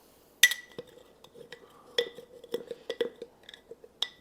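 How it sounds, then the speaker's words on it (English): Wheat flour and water are stirred in a glass jar to make a sourdough starter, heard as quiet, irregular clinks and light scrapes of a utensil against the glass. "And then just stir it up."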